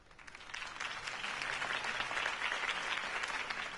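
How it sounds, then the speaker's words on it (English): Crowd applause following Harvey Dent's campaign speech in Batman: The Telltale Series video game, a steady wash of clapping that swells in and holds at a moderate distance, fairly faint. "If only Mr. Wayne, my campaign's largest backer, could have heard that applause"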